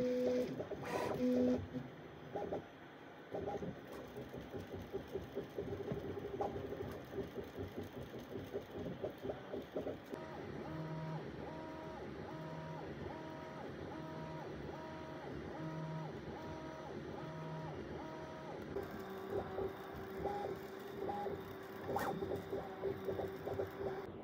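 Two 3D printers running side by side on a small box print, one in PLA and one in PETG, giving steady stepper-motor whirs and rhythmic chirping moves that repeat in patterns, with a continuous fan hum beneath and no talking.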